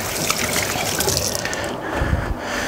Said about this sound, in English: So I just wash my hands off quickly.